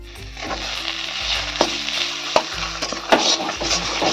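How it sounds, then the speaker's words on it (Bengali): Chilli being stirred in a hot pan for a potato and gima greens mash: close, loud sizzling with several brisk scraping strokes of a spoon against the pan. "ভালো করে আমি নাড়িয়ে নেব লঙ্কাটা আমি ভালো করে মিক্সড করে দেবো"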